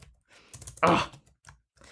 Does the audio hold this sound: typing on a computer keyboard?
yes